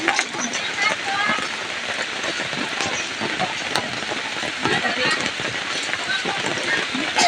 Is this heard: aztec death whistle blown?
no